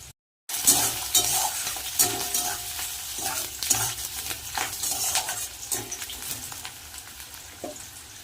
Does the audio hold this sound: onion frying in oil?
yes